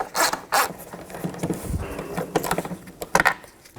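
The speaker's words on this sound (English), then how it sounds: "Use a 10mm socket." A 10mm socket wrench makes a few short, close ratcheting clicks and metallic scrapes while bolts come out of a 2004-2010 Toyota Sienna tail light assembly.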